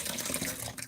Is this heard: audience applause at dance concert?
no